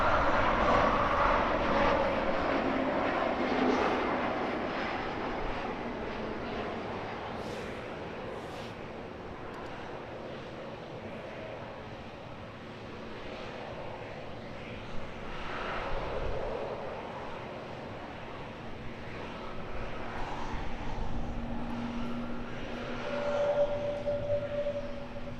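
An aircraft landing at Edinburgh Airport passes with a loud engine rush at first, then fades into a softer, drawn-out rumble that rises and falls, with a brief thump midway.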